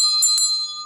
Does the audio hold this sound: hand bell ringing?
yes